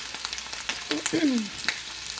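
Chicken skin searing in a very hot pan for a guajillo chicken dish sizzles continuously and crackles. Faint voice-like sounds and a brief squeak are mixed in.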